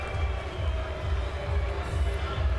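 A boxing match crowd boos in a steady, low, rumbling swell that carries on without a break, with no clear individual voices.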